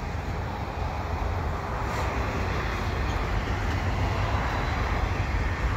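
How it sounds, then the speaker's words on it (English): A CP mixed freight train carrying double-stack containers rolls past in a steady, broadband rumble and rush. The sound stays even and continuous from start to finish, with no voices over it. "Now this is going to be a mixed freight train."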